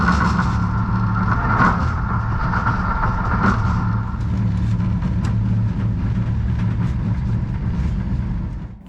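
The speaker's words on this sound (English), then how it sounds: "This is a common thing on all Talgo trains I've been on, thanks to the limited amount of wheels making you feel every single imperfection on the track." Talgo high-speed train in motion, with a steady rumble of rolling wheels and irregular knocks and jolts as it passes over track imperfections, heard from inside a carriage.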